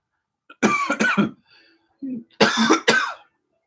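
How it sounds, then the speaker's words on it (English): Several sharp coughs in two bursts separated by a short pause, fairly close and loud, with a brief throat-clearing sound in between. "that's not me coughing. That's him."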